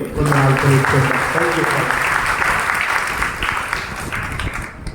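An audience at a parish pilgrimage gathering at a shrine applauds a priest with loud, sustained clapping, a thick wash that carries on and slowly tapers toward the end, with a voice heard briefly at the start.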